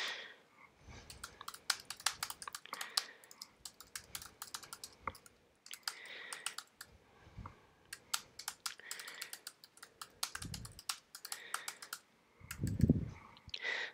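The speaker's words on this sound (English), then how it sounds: "Again, type the text that you wish to put in." Close, crisp keystrokes on a computer keyboard as text is typed into a Canvas page editor, coming in quick clattering bursts separated by short pauses, with a few heavier thumps.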